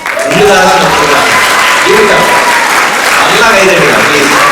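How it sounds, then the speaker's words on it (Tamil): Loud, sustained audience applause at a Tamil Sangam gathering in Then Poovaga, a dense crowd clapping throughout with voices faintly mixed in. "I think you should give an applause to your self"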